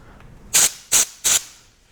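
Three sharp, loud bursts of air blowing dust off a freshly sanded Bondo patch on a racing shell after 120 grit, evenly spaced and close, with quiet pauses between them.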